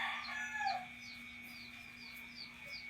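Broodcock roosters on Olango Island crow and cluck outdoors. One loud crow comes early, then fainter clucks and calls follow against a steady background hum.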